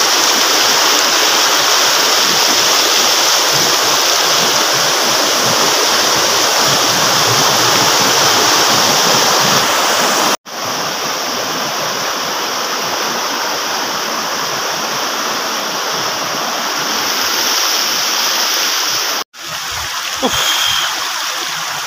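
Dony Polo waterfall in Arunachal Pradesh pours in a loud, steady roar of rushing water heard from close by, broken by two abrupt cuts.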